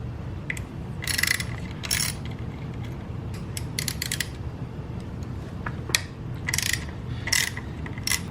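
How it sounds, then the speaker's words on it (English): Hand ratchet backing out the 8mm bolts on the stock skid plate of a Kawasaki KLX351 motorcycle, heard as several bursts of quick, close clicking separated by short pauses, with no talk. "go ahead and take off the stock skid plate. Looks like they are probably going to be Kawasaki's 8mm bolts"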